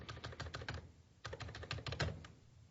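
Computer keyboard keys clatter in two quick bursts of rapid typing separated by a short pause, faint and close, with no voices.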